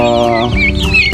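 Chickens cluck loudly and close by, a layered mix of several voices with rising, warbling calls from the flock.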